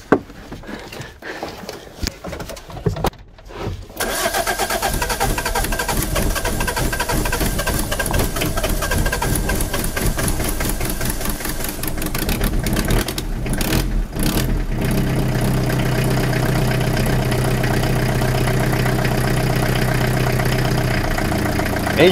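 A Renault Master 2 2.5 diesel van engine with an open intake cranks after a few seconds of quiet shuffling, catches, then idles with a loud, steady, rough rumble that continues to the end.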